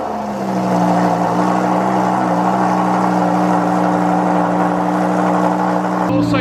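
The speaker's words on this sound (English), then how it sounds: "So this is a cold startup of the Lamborghini Hurricane" A Lamborghini Huracán with a titanium exhaust, due for servicing, cold-starts and settles into a loud, steady high idle with a droning exhaust tone, then a sharp click near the end.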